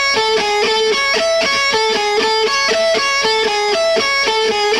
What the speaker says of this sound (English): Now this is lick 17 played slow.